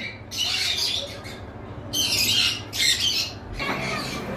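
Green Fischer's opaline lovebirds squawk in harsh, shrill bursts, several in a row with short gaps, close and loud.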